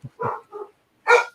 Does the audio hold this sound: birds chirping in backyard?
no